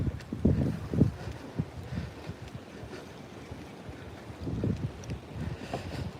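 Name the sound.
wind blowing on a lake while fishing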